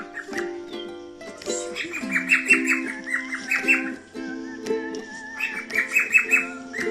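A pet cockatiel sings indoors at one in the night, a run of clear whistled tones and chirpy squawks that go on steadily and close to the microphone.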